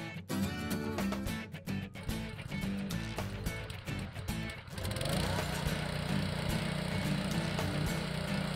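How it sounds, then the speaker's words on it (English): A RYAN Jr. Sod Cutter Hydro engine starts about halfway through and then runs as a loud, steady, unbroken drone. Tonal background music plays before it starts. "When you're ready to start the engine, open the fuel valve, adjust the choke, and turn the ignition switch clockwise"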